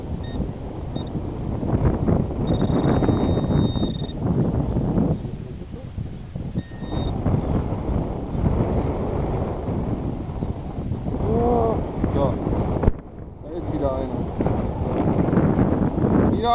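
Steady, rough wind buffeting a microphone outdoors during metal detecting, with a person talking intermittently in German over the gusty rumble.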